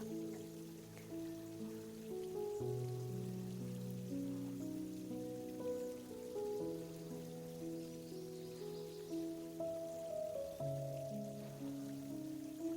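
Grated pumpkin fries in hot oil with asafoetida, nigella seeds and green chillies, giving a soft, steady, rain-like sizzle, faint and continuous beneath gentle background music.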